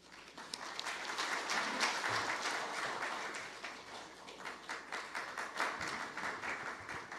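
An audience claps at a National Assembly policy forum in Korea, with soft, even applause that swells over the first two seconds and then holds at a steady, moderately quiet level.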